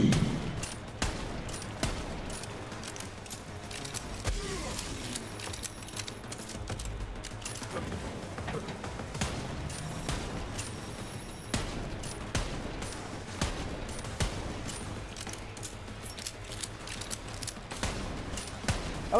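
Rapid gunfire crackles through a Borderlands 3 firefight, dense repeated sharp shots and mechanical clatter running almost nonstop, loud and close, with no talking.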